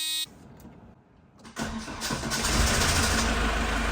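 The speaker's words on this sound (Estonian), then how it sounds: "Issand, mis traktor." An old 1988 car engine cranks and fires into a rough, clattering, tractor-like idle that grows louder and settles into a steady running rumble close by.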